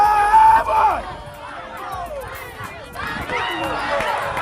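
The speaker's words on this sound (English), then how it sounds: "You can hear the fans cheering him" Fans cheer and shout for a competitor at a Ghanaian strongman event, a loud mix of crowd voices, whoops and yells that carries throughout with a brief lull before swelling again.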